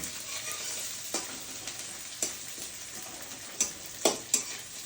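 Onion frying in oil with bay leaf for a mutton curry: a steady, close sizzle broken by a handful of sharp spoon clicks and scrapes against the pan, with no voices.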